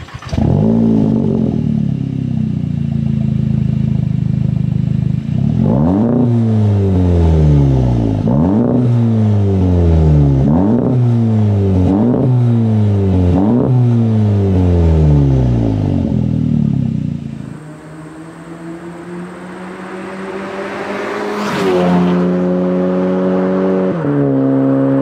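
A VW MK7 GLI with a fully unfiltered exhaust idles loudly up close, then gives six or seven sharp revs that rise and fall in quick succession. A long, smooth climb through the gears follows and fades as the car pulls away.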